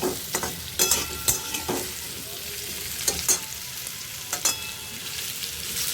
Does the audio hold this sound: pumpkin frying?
yes